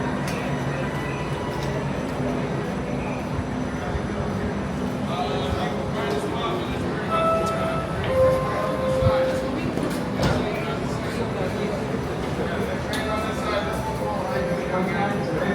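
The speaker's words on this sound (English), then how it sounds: "This is the next train to depart." A Link light rail train departs Lynnwood City Center station, rumbling steadily on the tracks with brief tonal squeals and clatter rising above the low roar, while faint voices can be heard in the background.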